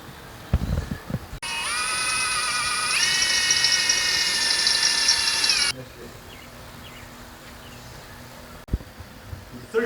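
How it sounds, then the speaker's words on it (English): Power drill boring a hole for a self-tapping bolt during a 4-inch Superlift install on a 2011 Jeep: a steady, high whining drill run of about four seconds, rising in pitch midway, with clanks before and after. "So we have to drill a hole in the center, put in this self-tapping bolt in there to hold that in place"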